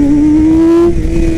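Race-prepped Yamaha R6 sport motorcycle on a track, its engine droning loud and steady at high revs, then briefly cutting as the quick shifter clicks through a clutchless upshift before the note resumes.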